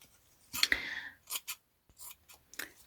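Scissors trimming fabric scraps in a few separate bursts of crisp snipping and blade rasps, close up with short pauses between cuts, no talking.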